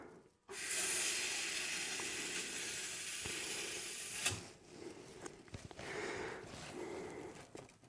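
Handheld cutter slicing rusty 1.2 mm sheet steel on a Citroen C15D, a loud steady hiss that starts abruptly, runs about four seconds and stops with a pop, followed by faint sputters and softer hissing.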